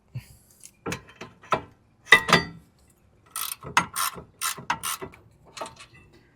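Ratchet wrench clicking as a brake caliper bolt is loosened on a 2003-2009 Lexus RX330, with several short bursts of close metallic ratcheting separated by pauses, and no talk.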